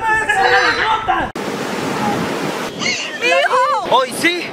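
Ocean waves wash at the sea in a steady broadband rush, with people talking loudly over it at the start and again near the end.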